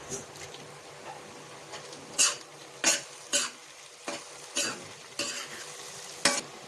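Dried red chilies drop into browned onions frying in a pan, giving a quiet background sizzle broken by several distinct stirring clatters and scrapes spaced about a second apart.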